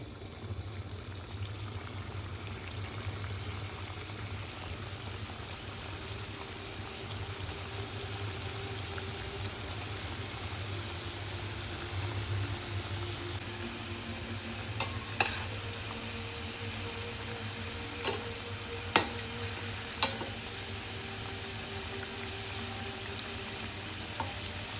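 Pumpkin modak fry in hot oil with a soft, steady sizzle and faint bubbling, punctuated by a few light clicks near the end, with no talking.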